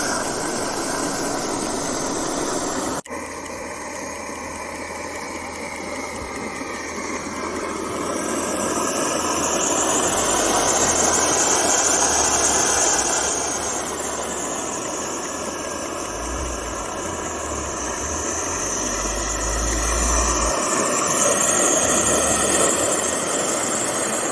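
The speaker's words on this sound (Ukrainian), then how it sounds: "чайник починає парувати, видає свист" Loud, steady roar of a primus stove under a boiling kettle, with hissing steam and a thin whistle swelling and fading over it.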